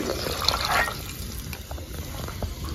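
Heated water poured from a vessel into a pot outdoors in a field, a short close splash and trickle that fades into softer dripping.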